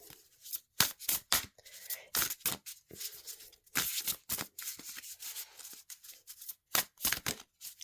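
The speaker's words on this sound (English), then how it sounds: "So let me pull another card" Tarot cards are handled and pulled from a deck in a series of close, crisp papery snaps and slides, arriving in quick irregular bursts with brief pauses between them, with no talking.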